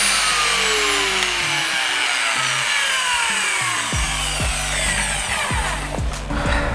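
A Flex PE14 rotary polisher, fitted with fresh carbon brushes and set to speed 1, whirs steadily and loudly up close, with repeated low thumps and shifting tones as it runs.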